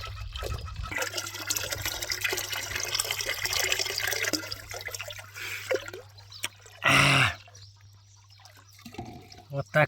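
Clean water poured by hand in a village household, heard as one short, fairly loud splashing burst after stretches of quieter background noise.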